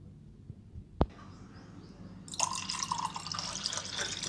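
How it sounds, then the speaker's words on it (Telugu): Water is poured into nannari juice, a single sharp drip or tap first, then a loud, steady splashing pour running close by to the end. "మనం కొంచెం వాటర్ అనేది యాడ్ చేసుకుందాము"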